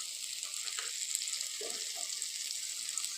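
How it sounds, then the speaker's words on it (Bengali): Ginger, tomato and green chilli sizzle quietly in hot oil in a pan, a steady soft hiss with a few faint stirring sounds. "আদা টমেটো কাঁচা লঙ্কা খুব সুন্দরভাবে ভাজা হয়ে গেছে"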